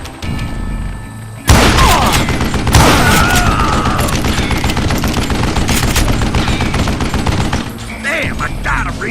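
Western-style gunfire in Call of Juarez: Gunslinger, a loud burst of rapid shots and booming blasts starting abruptly and running for several seconds before tapering off into quieter game sounds.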